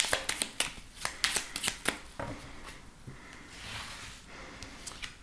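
Tarot cards riffled and shuffled by hand for a reading, a quick run of crisp flutters and slaps followed by softer sliding, close and quiet with no talking.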